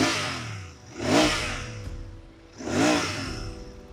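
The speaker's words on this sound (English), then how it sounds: "this motorcycle, or rather its engine, it's a smooth operator" A 2023 Royal Enfield Interceptor motorcycle engine revs twice, each blip rising smoothly and then falling back to a steady idle, close and fairly loud with no talking.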